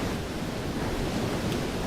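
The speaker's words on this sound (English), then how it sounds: "I'm hearing a waterfall, but I don't see a waterfall." A video game waterfall: a steady, loud rush of falling water, a constant roaring hiss that doesn't change across the whole stretch.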